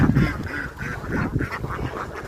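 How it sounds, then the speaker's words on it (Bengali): A crowd of ducks at a Manasa Puja duck market in Begunkodar quacks loudly and almost without pause, with overlapping calls close by filling the whole stretch. "মনসা পূজাকে এই হাঁসগুলা সব শেষ হয়ে যাবে। প্রচুর হাঁস।"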